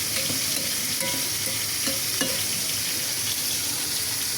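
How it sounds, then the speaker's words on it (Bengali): Onions fry in a pan to make beresta, a steady close sizzle with scraping stirs and light clinks, heard alone with no talking. "তো বেরেস্তা শেষ, এই জন্য অল্প একটু বেরেস্তা করে নিচ্ছি।"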